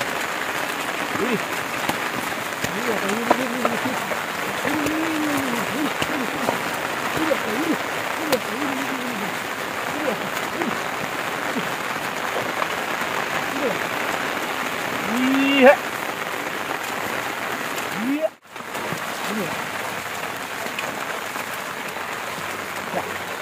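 Steady rain pattering on a surface at a Konkan rice field during ploughing, a continuous wash of drops with occasional faint calls in the background.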